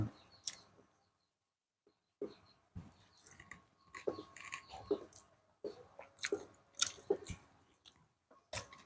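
Chewing while eating chicken biryani, close-up wet mouth sounds with soft squishy bites and clicks in irregular bursts separated by short pauses, no talking.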